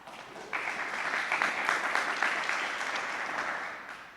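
Applause from an audience at a war memorial building ribbon-cutting ceremony starts abruptly, holds as a full, even clapping from a moderate distance, then slowly fades.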